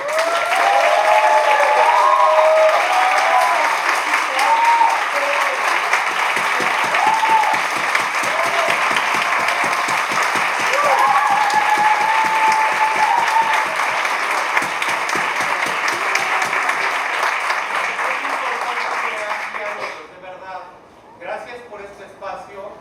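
Audience at a university panel discussion on theatre and diversity giving sustained applause at the close, loud dense clapping for about twenty seconds with faint voices mixed in, then tapering off to scattered claps.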